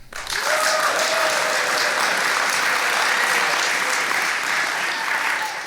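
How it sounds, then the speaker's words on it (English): A live audience at a FolkEast folk festival show applauds on cue, a steady, full wash of clapping that swells quickly and holds for several seconds with no talking. "The audience is being shown the word applaud."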